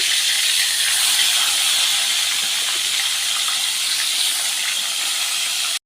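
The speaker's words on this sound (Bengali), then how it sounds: "আমার তেল গরম হয়ে গেছে মাছ এখানে ছেড়ে দেব ভাজা করার জন্য" Fish dropped into hot oil for frying gives a loud, constant hissing sizzle that holds steady for several seconds and then cuts off abruptly, no voices.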